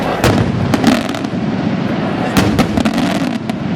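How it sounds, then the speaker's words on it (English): Aerial fireworks burst over a Maltese village, launched from fields outside it: dense, continuous crackling and popping with sharper loud bangs standing out, a busy barrage without talk. "These fireworks are all made in local factories and are fired into the air in enormous quantities from fields outside the village."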